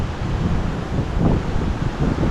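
Strong wind after rain blowing near the coast, a constant loud rushing with rumbling gusts against the microphone and a faint wash of surf beneath.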